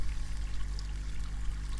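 Water pouring through a pipe into a veg filter for a DIY koi pond built from an old water tank, a steady low splashing trickle, continuous and fairly quiet.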